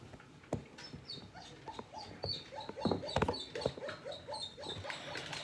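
A pet dog whimpers and whines in rising, pleading squeaks, a run of short high cries interrupted by a few sharp thuds and scuffles nearby, fairly close, with no speech.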